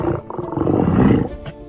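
A Steller sea lion from the Salish Sea lets out one deep, rough, rumbling roar-grunt, close and loud, lasting under two seconds.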